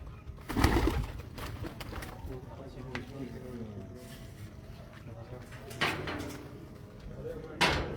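Pigeons coo low and repeatedly at close range among a flock, with a few brief knocks and rustles, while people talk in the background throughout.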